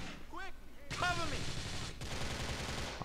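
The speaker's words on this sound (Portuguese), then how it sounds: "Tá vindo tiro dali." Gunfire in GTA 4: The Lost and Damned, a loud rapid burst of shots from about one second that runs on densely to the end, after a man's brief exclamation at the start.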